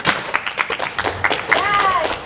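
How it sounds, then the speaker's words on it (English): Cast members of a radio play clap for themselves, scattered sharp claps and taps from a small group heard near, mixed with talking and a vocal exclamation. "Clap for yourselves. Clap."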